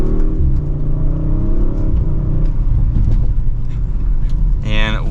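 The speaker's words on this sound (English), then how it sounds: "And from second gear, here's a mild acceleration." A 2023 Audi RS5 Sportback pulls away in second gear under mild throttle, its engine drone rising steadily and loud from inside the cabin, with a brief higher whir near the end.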